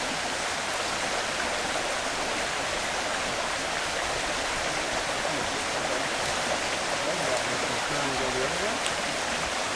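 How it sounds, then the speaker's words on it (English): Water gushes steadily while a gold sluice box is rinsed clean at the end of a day of sluicing in the Mother Lode country, a continuous close broadband rush with a voice briefly speaking near the end. "go ahead and rinse it from right there."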